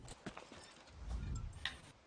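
Horse hooves clip-clopping at a stable in Elder Scrolls Online, a few faint, quiet hoofbeats in an irregular rhythm over a low rumble.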